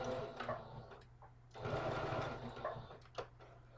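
A home sewing machine stitches through fabric, including backstitching at the end of a seam, with its motor whirring in bursts that stop and restart, fairly close and moderately loud, with no talking.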